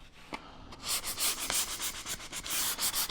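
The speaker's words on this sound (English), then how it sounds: "You want to take off that sharp edge too, just very lightly with our hand paper, just taking off that little sharp edge." Hand sanding paper stroked lightly along the sharp edge of a wooden door panel, a quick series of soft, rhythmic scratchy rubs close up, with no voices.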